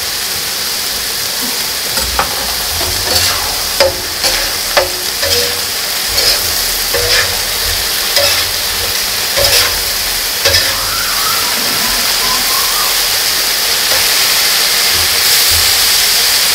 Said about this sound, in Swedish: Vi kan slänga i vitlöken här med så den hinner brynas med lite ihop den andra där.